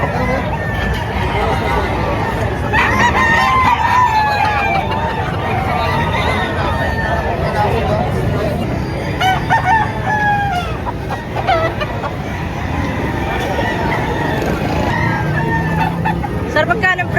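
Chickens of the Bulik rooster type cluck and crow at a busy poultry market, calls rising repeatedly over steady crowd chatter, traffic and people talking nearby.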